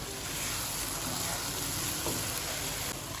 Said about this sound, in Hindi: आलू को जो है ना इसमें हम मसाले में अच्छी तरह से मिक्स करेंगे।